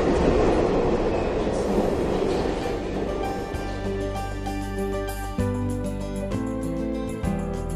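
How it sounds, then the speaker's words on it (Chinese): A high-speed train heads toward Dezhou East station in China's Shandong province, its rushing rail roar loud at first, then settling into a steadier hum with sustained tonal sounds layered on top. "镜头下方，一列高铁正在疾驶"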